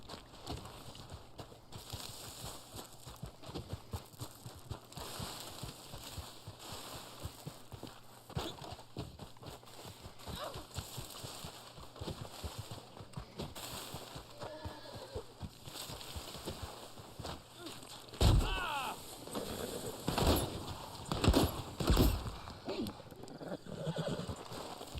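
Horse hooves clip-clop in the video game Red Dead Online, an irregular run of close, crisp clops with several whinnies and snorts among them. It grows louder and busier toward the end, with faint talking in the background.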